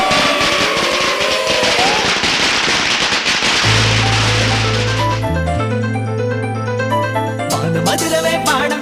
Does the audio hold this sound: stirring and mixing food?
no